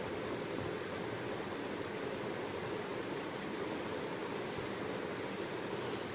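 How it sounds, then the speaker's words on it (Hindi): Pav bhaji vegetables frying in a pan after a splash of water is added, giving a loud, steady, dense sizzling hiss that continues without a break throughout. "तो हम इसमें अपने थोड़ा सा पानी ऐड कर देंगे और इसे अच्छे से मिला के इसे थोड़ा गलने देंगे"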